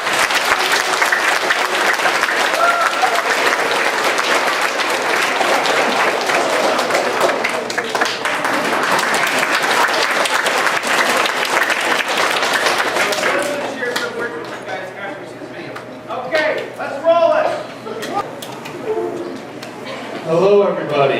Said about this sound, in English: Let's give a round of applause to Joe.